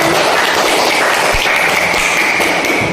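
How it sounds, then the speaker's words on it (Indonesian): A classroom group claps for the first group after a presentation, a dense continuous patter of many hands at close range, loud and steady throughout with no talk. "tepuk tangan untuk kelompok pertama"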